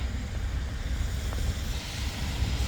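Steady wind blowing outdoors in a snowy setting, a continuous broadband rush with low rumbling gusts against the microphone, no voices.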